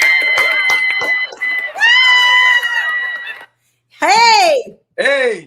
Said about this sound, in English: it's obvious I put that clap track together, isn't it?